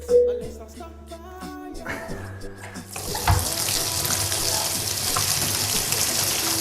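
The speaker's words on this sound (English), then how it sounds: "I'm going to turn on the water in a moment and see if enough water comes out of here." A shower tap is opened to test low cold water pressure, and after a few seconds of quiet clinks and a faint voice, water rushes out in a steady, close hiss that continues to the end.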